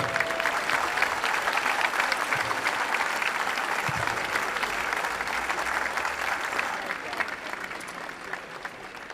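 A large crowd at the opening ceremony of the Dax Ferias festival applauds the volunteers, dense, loud and sustained clapping that fills the whole stretch as an even wash of sound.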